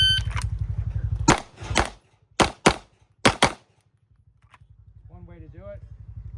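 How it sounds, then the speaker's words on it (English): Several sharp gunshots ring out one after another as a shooter engages three targets, loud and close, with a steady low engine-like drone running underneath. "I'm gonna shoot back to front. I'll shoot my 3 targets."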